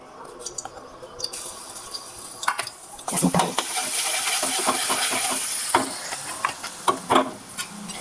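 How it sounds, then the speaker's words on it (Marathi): Ginger garlic paste dropped into hot oil for misal, a close sizzle and frying hiss swelling midway, with stirring clatter around it. "आता आले लसूण पेस्ट घालणार आहे"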